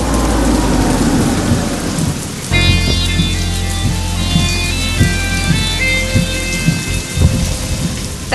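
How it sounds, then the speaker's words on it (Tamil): A rainstorm at night brings steady, heavy rain with rolling thunder that swells and rumbles throughout, loud and close, with no voices. "மழை பெஞ்சுக்கிட்டு இருக்கு"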